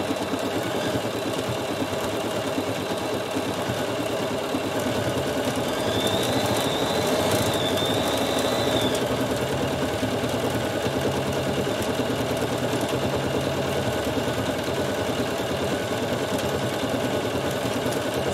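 A Bernina 7 series embroidery module stitches a flower in variegated thread, giving a steady, continuous mechanical whir at moderate level with no talking.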